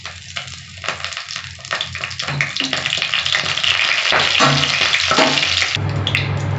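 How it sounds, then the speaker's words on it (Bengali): Whole spices dropped into hot oil for a tempering, crackling and sizzling loudly up close, the spitting rising and thickening into a continuous fizz before easing near the end. "আমি এবার ফোড়নটা দিয়ে দিচ্ছি।"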